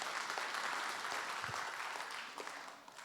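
Sustained applause from a church congregation at an evangelism testimony service, a dense wash of many hands clapping that holds steady and fades slightly toward the end, with no talking.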